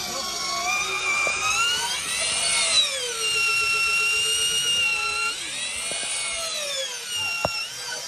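A power drill boring into a wooden house post, a loud whining motor that rises and falls in pitch as it bites in, running steadily with a sharp knock near the end.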